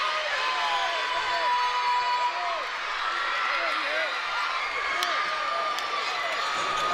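A basketball crowd at the Pan Am Sports Center roars and cheers after a comeback, a loud sustained wash of voices and clapping with whistles cutting through, while a commentator talks over it.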